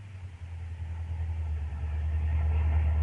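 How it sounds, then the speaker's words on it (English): A 1940s radio-drama car engine rumbles low and steady as the car pulls off the road to park, growing slightly louder over a few seconds. "Have to pull the car a bit off the road, though, to park."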